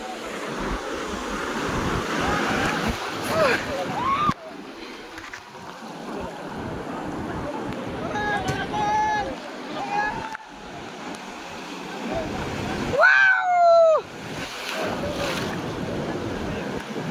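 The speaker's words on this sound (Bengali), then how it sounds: "পিছনে দেখি বড় ঢেউ উঠাই চলে যাবে, দেখ" Sea waves roll and break at Digha beach with a continuous roar of surf and gusty wind on the microphone. People talk loudly over the surf throughout.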